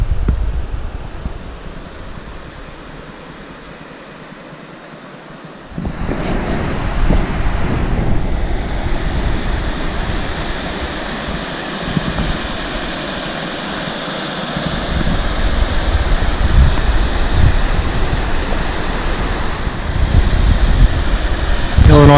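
The Illinois River rushing beside a wilderness hiking trail, a steady broadband roar of flowing water that swells louder midway and stays close throughout.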